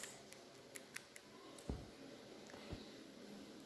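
Scissors snip excess yarn from a pom pom wound on a fork, giving a few faint close clicks and soft snips, with one or two firmer cuts among quiet handling sounds and no speech.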